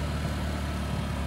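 A Honda Metro or Ruckus scooter engine idles at raised RPM, a steady low rumbling chug, close and continuous.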